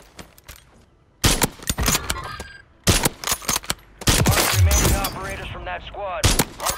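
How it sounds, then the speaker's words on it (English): Bursts of automatic gunfire in the shooter game Warzone 3 come in several loud clusters with short gaps between them, punctuated by sharp impacts. "Who was shooting at me in the first place?"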